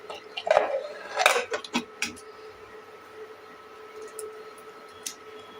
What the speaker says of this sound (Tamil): இப்போ நம்ம குக்கரை நல்லா மூடி வச்சிடலாம்.